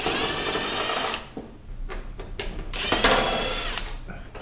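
A power driver backing screws out of a cheap heater from a Walmart shelf unit, with a close high whir followed by short stop-start bursts and a second whir, no speech.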